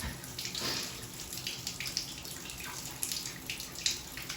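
Leftover water trickles from a shower pipe after the supply is shut off during a Moen faucet cartridge replacement, a steady soft running hiss with faint splashes and drips, alone and fairly quiet.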